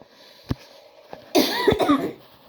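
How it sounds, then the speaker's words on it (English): A sharp cough, then a burst of harsher coughing and throat sounds about a second later, close and loud against a quiet background. "they got me coughing"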